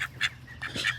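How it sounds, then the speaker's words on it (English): A small white call duck gives short nasal quacks, two brief calls then a louder pair close by, with no talking over them. "He's a little white call duck."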